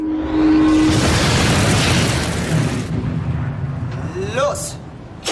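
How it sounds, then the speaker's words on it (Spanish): A torpedo strikes a ship in a wartime convoy, a loud, heavy blast that roars for about three seconds and then fades into rumbling, with a voice over it. "se oyó un estallido impresionante"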